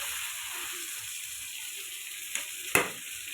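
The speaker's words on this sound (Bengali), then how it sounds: "এবার আলু আর ফুলকপিটা দিয়ে দিব।" Potatoes and cauliflower sizzling in hot oil in a pan, a steady soft frying hiss throughout with a couple of brief louder clatters near the end, no talking.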